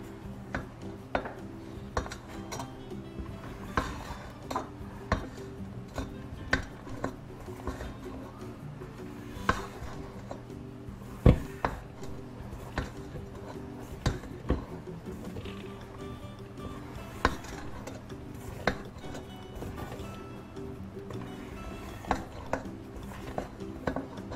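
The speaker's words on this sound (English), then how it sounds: "And we're going to mix with a spatula. Down and around." A spatula folds meringue into almond brown-butter cake batter in a bowl, soft repeated scrapes with light clinks and knocks against the bowl at a slow, irregular pace, close and quiet.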